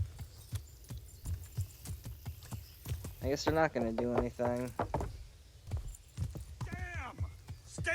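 Horse hooves clip-clop steadily on a road in Kingdom Come: Deliverance, a regular rhythm of moderate hoofbeats running under someone talking over gameplay.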